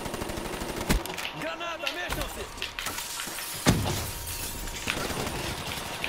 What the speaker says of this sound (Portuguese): ele aproveitou a granada pra me matar